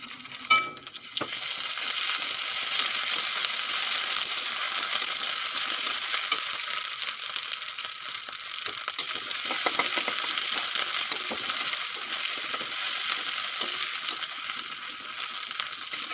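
Onions fried until red in a pan, then ginger-garlic paste added for a tilapia fish curry: a loud, continuous oily sizzle with occasional stirring scrapes and clinks, close and steady throughout.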